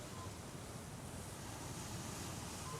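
Sea waves wash in a steady, faint, continuous surf hiss mixed with wind, an unbroken rushing wash with no distinct breaks and no talk.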